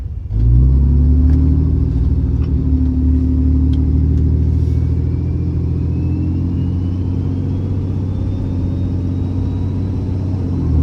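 A car engine on a test pull after a head stud retorque and valve cover install gives a loud, deep rumble, rising steadily in pitch as it accelerates through the gears, close and continuous with no talking.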